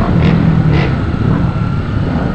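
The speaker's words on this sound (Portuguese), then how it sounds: "A moto nova que ele foi pegar." A steady engine drone from a passing Honda Hornet motorcycle, continuous and fairly loud, with a couple of brief rises in pitch.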